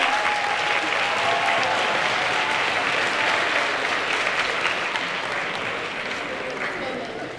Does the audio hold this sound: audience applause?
yes